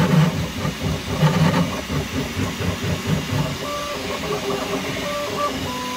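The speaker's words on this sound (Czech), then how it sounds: "už je ta bambulapka opravdu hlučná" Bambu Lab X1C 3D printer running at very high acceleration, around 15,000, loud and close: rapid, rhythmic mechanical buzzing and whirring from quick toolhead moves, with short tonal whines from the motors.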